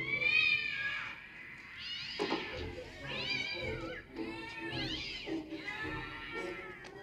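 Several cats meow repeatedly, close by, with drawn-out rising and falling cries overlapping one another.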